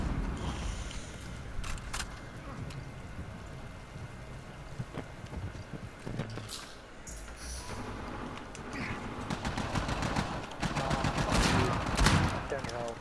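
Gunfire and fusillade bursts ring out in an Uncharted 4: A Thief's End multiplayer firefight, rapid shots rising toward the end over engine-like rumble and wind, with players talking intermittently.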